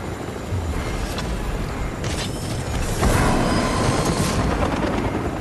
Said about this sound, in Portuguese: Top, hein? Helicóptero